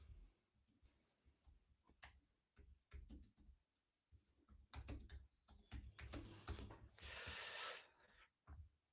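Computer keyboard typing in bursts of quick clacking keystrokes at close range, with pauses between runs and a brief louder rustle near the end; no talking.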